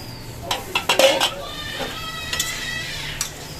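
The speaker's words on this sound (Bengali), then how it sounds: "আজকে আমাদের জন্য ডিম আলুর তরকারি অনন্য রান্না করছে" Metal pots and utensils clink and scrape while egg and potato curry is cooked, with a few sharp knocks near the start and quieter tapping afterwards over a low background hum.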